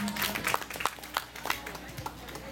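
Scattered hand claps for a singer at a temple event: a thin, uneven smattering of claps rather than full applause, heard at moderate distance over background room noise.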